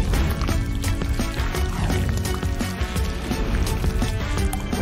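Paint pours steadily in a continuous, dense liquid rush that stays loud and even throughout, with no voices over it.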